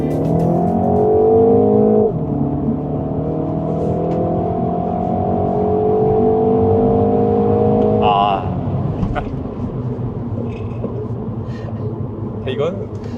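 A MINI car in go-kart mode accelerates hard along a winding mountain road, the engine note climbing steadily through the gears with a shift near the middle, loud and close, under a driver's ongoing talk.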